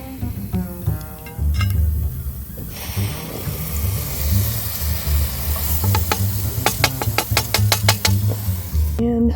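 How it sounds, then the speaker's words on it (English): Steady hissing sizzle of meat frying in a pan at a riverside campsite, continuous and close, with occasional clinks and knocks of utensils on top. "I can hear the meat is sizzling."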